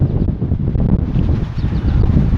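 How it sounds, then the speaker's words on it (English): Steady low wind rumble buffets the microphone throughout, a continuous dense roar with no voices. "It's nice and windy out here, so if you get that wind in the background, I apologize"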